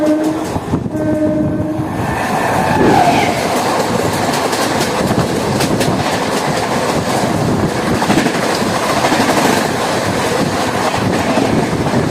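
An Asansol–Bardhaman MEMU passenger train running, with loud continuous rolling rumble and clatter of the wagons and short horn blasts near the start.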